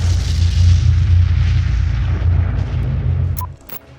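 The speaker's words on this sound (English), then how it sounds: "Explosions are fascinating to watch, but they can also be dangerous, destructive, and lethal" A large explosion rolls on as a heavy, sustained low rumble that fades toward the end, with a few sharp crackles near the close.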